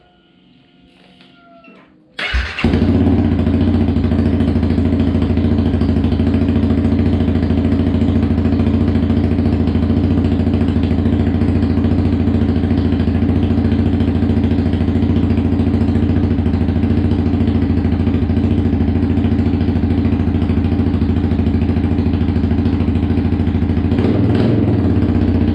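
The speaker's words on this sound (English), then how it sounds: "But it idles good now. It idles actually perfect." A Honda CBR 300R engine fires up after a quiet moment and settles into a loud, steady idle, a continuous close-up rumble that holds evenly to the end.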